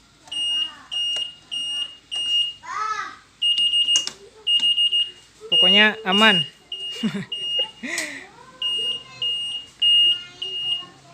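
A Yamaha NMAX 2020 motorcycle's anti-theft alarm beeps over and over in a steady, insistent rhythm, loud and close, while people talk over it.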